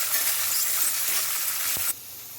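Peas sizzling and frying in a pan for pohe, a steady close hiss with light stirring, dropping quieter near the end.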